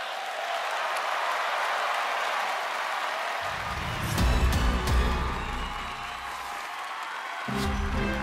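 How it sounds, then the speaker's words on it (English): A large arena audience at the Eurovision Song Contest 2014 grand final applauding the artists, a broad roaring wash of clapping and cheering that swells midway, with a host's voice and music briefly over it. "let's give all of the artists a big round of applause"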